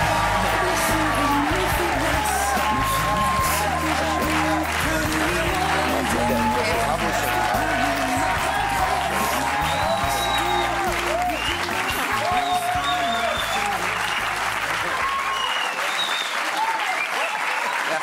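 A television talk show studio audience breaks into loud, sustained applause with cheers and whoops. The clapping is dense and close throughout, with music playing along before it cuts out near the end.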